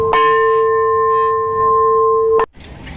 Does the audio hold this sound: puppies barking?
no